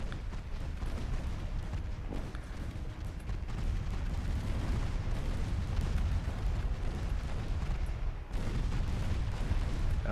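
Naval 3-inch guns firing in Ultimate Admiral Dreadnoughts, a dense rumbling stream of booms and blasts with a few sharper reports at about 2 and 8 seconds, steady and loud throughout.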